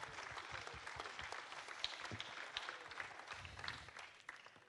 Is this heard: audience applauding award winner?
yes